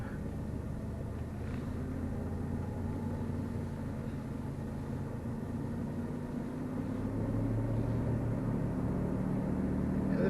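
A 1996 Jeep Grand Cherokee driving on a test drive, heard as a steady low engine and road rumble from inside the cabin, without talking.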